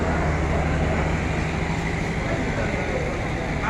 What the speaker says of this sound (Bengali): পার্বতীপুর অভিমুখী কাঞ্চন কমিউটার ট্রেনটি দেখতে পাচ্ছেন